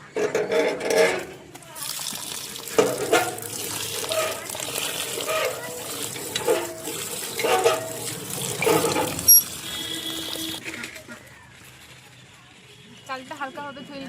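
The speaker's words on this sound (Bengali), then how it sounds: "চালটা এবার আমরা ধুয়ে নিই" Rice is rinsed in a basin under a running tap, with water splashing and pouring steadily throughout while a person talks over it, the flow thinning out toward the end.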